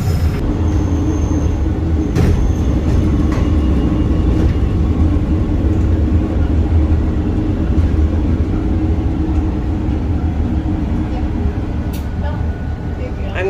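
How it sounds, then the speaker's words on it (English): Old-fashioned train running through the Hungarian countryside near Kiskunfélegyháza, heard as a loud, steady rumble from inside with occasional clacks. "This is an old-fashioned train."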